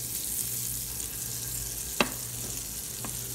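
Melted butter sizzles in a very hot skillet, a steady soft hiss that carries on throughout, broken once by a single sharp clink near the middle and a fainter tap later.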